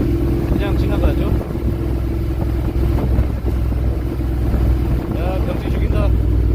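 A Honda Forza 750 scooter-style motorcycle crossing a windy bridge gives a steady engine drone with heavy wind roar throughout, while someone speaks over it.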